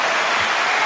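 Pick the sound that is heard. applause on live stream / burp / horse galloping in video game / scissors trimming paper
applause on live stream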